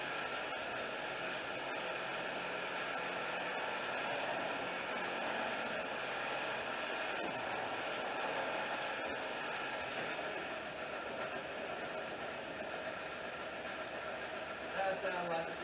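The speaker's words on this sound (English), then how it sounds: "now it sounds like it's running real good, smooth idle" A 2003 Nissan Altima engine idling after a mass airflow sensor replacement, a steady continuous drone with broad mechanical hiss, close and even throughout, with no clear speech.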